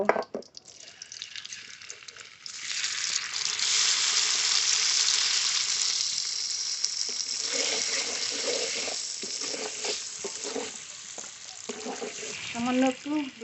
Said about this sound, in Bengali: এই তেলে পনিরও ভেজে নেব